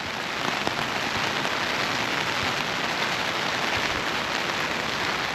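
Steady rain patters on a transparent umbrella near Miyajima Island's famous torii gate, a dense, even hiss of drops that holds constant throughout with no voices.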